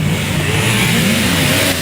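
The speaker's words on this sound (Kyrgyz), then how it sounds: "Мотордун күркүрөгөнү," A motorcycle engine revs loudly and steadily at close range, its rising mechanical growl filling the moment with no other sounds.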